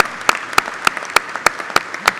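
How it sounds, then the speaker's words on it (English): Audience applause at an honorary ALPA members event comes as crisp, evenly spaced claps in a steady rhythm of about three per second. "please, a round of applause for that"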